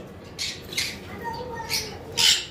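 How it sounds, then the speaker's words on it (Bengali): A two-year-old breeding pair of yellow-sided conure parrots lets out several sharp, bright squawks at irregular intervals, the last one loudest, with low room noise between calls. "এখানে একজোড়া ইয়েলো সাইডেড কোনোর পাখি রয়েছে"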